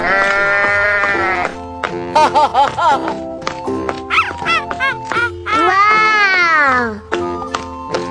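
Sheep bleating in a child-oriented animal game, a series of loud, close, quavering bleats, some drawn out and some short and broken, with brief gaps between calls.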